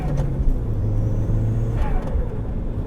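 A modified turbocharged Mitsubishi Colt Ralliart Version-R engine drones steadily up close, a low continuous hum with a slight whine, no voices.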